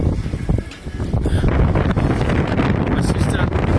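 Strong wind roars steadily across the microphone aboard a sailboat in 15 to 20 knots of breeze on the Bribie passage, a loud, continuous buffeting rush with brief gusty swells, nobody speaking.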